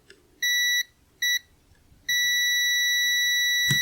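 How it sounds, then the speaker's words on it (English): Continuity-test beep from a Kaiweets HT118E auto-ranging digital multimeter: two short clean tones, then a longer sustained beep, steady and clear with a faint click near the end. "Get that green light and the audible buzz."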